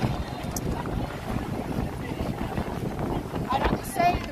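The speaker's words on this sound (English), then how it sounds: "oh my god, it's windy. I don't know if you can hear me, chat, it's so windy." Strong wind buffets an outdoor microphone in Alexandria, Egypt, making a loud, steady low rumble that fills the whole stretch, with a voice faintly present beneath it.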